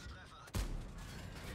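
An AMX Foch 50B tank destroyer in World of Tanks fires its cannon in a single sudden boom that rolls into a sustained rumble over faint game background.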